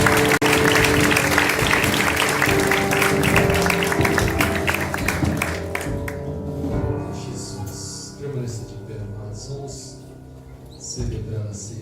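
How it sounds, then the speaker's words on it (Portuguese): A congregation applauds in church during a communion service, with dense clapping over a voice and musical tones. The clapping fades partway through, leaving softer sound and scattered taps. "Aplauda, Senhor."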